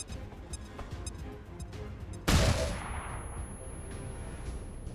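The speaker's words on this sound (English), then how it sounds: "what we're gonna do instead is a flashbang" An XCOM 2 flashbang grenade goes off with a single sharp, loud burst, followed by a brief ringing hiss that fades into steady game background noise.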